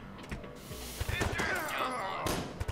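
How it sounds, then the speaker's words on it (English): Gunfire from a shooter in the tactical video game Door Kickers comes as a few sharp bursts and thumps, near and moderately loud, mixed with game sounds. "he's shooting that hat guy"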